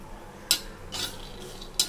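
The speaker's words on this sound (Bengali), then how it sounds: "শুকনো লঙ্কা আর বাদাম হালকা করে ভাজছি।" Peanuts and dry red chillies being stirred in an empty pan with no oil, giving three brief, crisp scrapes and clinks against the metal over a quiet background.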